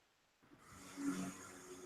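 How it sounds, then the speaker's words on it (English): A man snoring with a single faint, drawn-out rasping breath that rises and swells, low and quiet, with no talk. "We heard you snoring"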